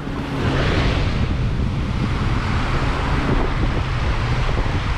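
Caribbean sea at Playa Mamitas beach in Playa del Carmen, heard as a steady, loud wash of surf mixed with heavy wind rumble across the microphone, continuous throughout with no talking.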